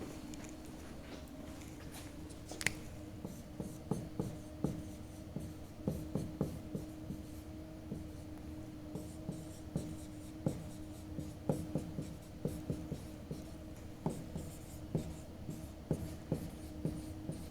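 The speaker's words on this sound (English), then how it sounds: "I guess I should write that down." Handwritten notes taken at a desk during a physics lab on DC circuits, with faint pen scratches and taps in irregular strokes over a steady low hum, quiet and close.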